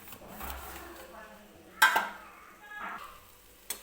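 A spoon stirring apple Bombay Karachi halwa in a ghee-greased pot, with soft scraping and a couple of sharp knocks against the metal; someone speaks over it.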